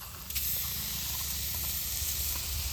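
Grated coconut and jaggery heat in a hot wok with a steady, loud hiss and soft sizzle, broken by faint clicks, close and continuous without talk.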